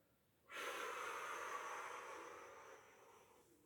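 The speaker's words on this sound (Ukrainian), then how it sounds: "Ми вдихаємо носом повітря." A long, steady inhalation through the nose during a breathing-recovery exercise after strength training, close and clearly audible, lasting about three seconds before fading.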